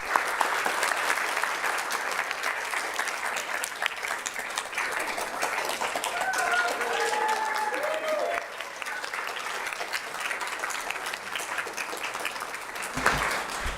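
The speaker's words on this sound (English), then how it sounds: "a warm round of applause" Audience at a city council meeting applauds an art contest's first-place winner, dense sustained clapping filling the room for the whole stretch, a few voices calling out beneath it.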